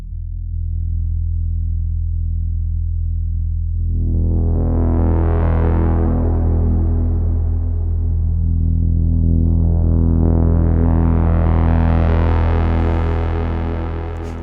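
A sustained, gritty electronic tone from a Nord Drum 3P pad set to long hall reverb, its brightness swelling up twice and lingering without a break.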